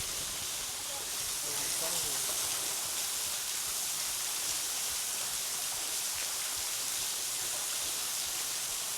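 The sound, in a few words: waterfall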